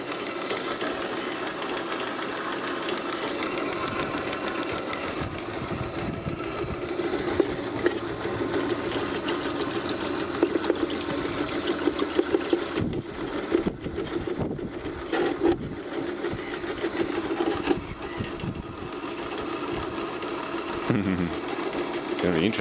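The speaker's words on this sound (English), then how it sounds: "So motor's doing 1400 RPM like it should." An electric motor running steadily at 1400 RPM on a 52 Hz supply, a loud continuous mechanical whir with rattling and clattering, under someone talking.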